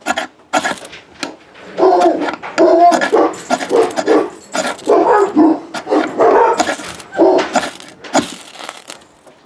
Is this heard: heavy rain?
no